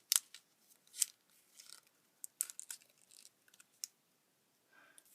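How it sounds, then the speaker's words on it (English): Paper folded into an origami rabbit, Jun Maekawa design, reverse-folding both layers: soft, irregular crinkles and crisp creasing snaps scattered across a few seconds, close and quiet, with no talking. "you want to take both layers underneath in reverse fold to that crease"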